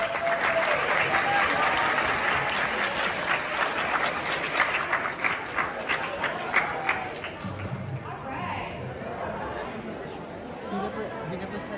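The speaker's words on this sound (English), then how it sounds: "Let's give her a big round of applause." Sustained audience applause at an awards ceremony at Essex County College in Newark, loud steady clapping mixed with crowd chatter and a few voices, gradually thinning toward the end.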